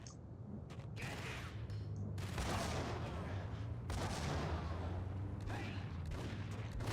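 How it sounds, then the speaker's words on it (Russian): Twin Ingram submachine guns firing in the video game Max Payne: rapid bursts of automatic gunfire come in several clusters over a low steady game drone, fairly loud and close. "Вот чуть-чуть в него выстрелили, он в станлоке, и я добиваю его."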